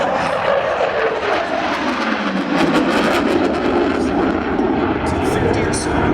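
An F/A-18E Super Hornet jet in an airshow demonstration at Sun 'n Fun 2012, a loud continuous engine roar with a sweeping pitch as it passes, and a voice speaking over it.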